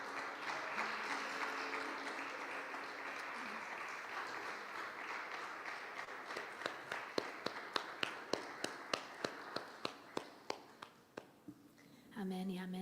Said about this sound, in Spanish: Dale un aplauso a tu Dios.